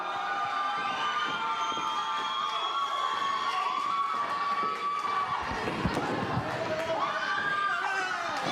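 Crowd at an indoor wrestling event cheering and shouting continuously, a dense roar of many voices at steady loudness with brief louder bursts near the end.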